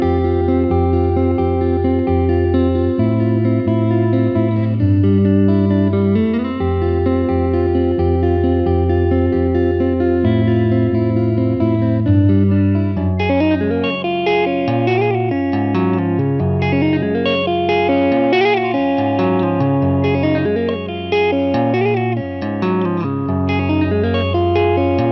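Electric guitar plays a looping math rock chord progression built on a bass-note riff, heavy with effects and reverb; clean sustained chords give way partway through to a busier, brighter run of picked notes, alone and up close.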